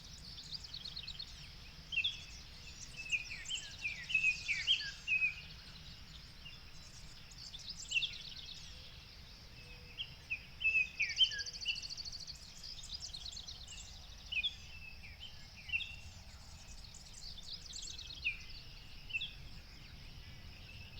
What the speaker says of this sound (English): Can you hear the sounds of birds waking up with the sunrise?